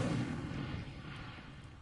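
The Incendio fire spell cast in Hogwarts Legacy, a single muffled whooshing burst of flame that is strongest at the start and then fades quickly, fairly quiet.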